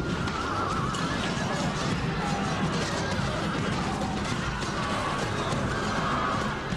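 Horses whinny amid the din of an ancient Roman cavalry and chariot battle in a strategy video game, with neighs rising over a dense, continuous clash of fighting noise.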